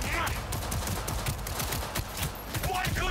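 Rapid gunfire bursts and shots ring out during a firefight in the video game Cyberpunk 2077, crackling continuously over a dense, loud game soundscape.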